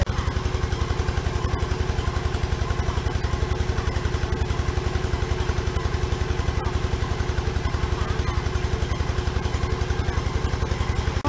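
A tractor engine chugs steadily with a rapid, even low thumping that never lets up, loud and close throughout.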